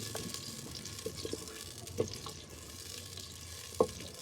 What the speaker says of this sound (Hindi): अब इसे भूनना है इतना कि जो लहसुन मैंने डाला है ना, लहसुन अदरक का पेस्ट, उसका जो कच्चापन है वो खत्म हो।